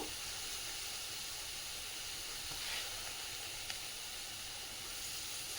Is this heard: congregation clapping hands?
no